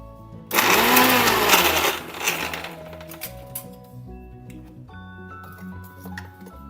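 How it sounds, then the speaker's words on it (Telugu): A kitchen mixer grinder blitzes a simple oil-free roti chutney, a loud whirring burst in the first two seconds that eases into lower, uneven grinding and jar rattle. "ఇలా మిక్సీ పట్టేసుకోవాలన్నమాట"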